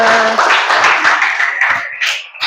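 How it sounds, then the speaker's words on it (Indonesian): A classroom of students claps together after an ice-breaking activity, a short, close burst of hand claps that thins out, with a brief voice at the start. "beri tepuk tangan untuk kita semua"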